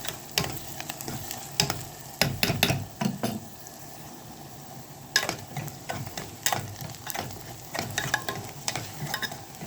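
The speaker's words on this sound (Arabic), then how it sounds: "بنقلب كده لحد ما البصله ما تدبل شويه." Onions frying for shakshuka are stirred in a pan, a steady sizzle underlying repeated scraping strokes of a spoon against the pan, close and fairly loud, with no talking.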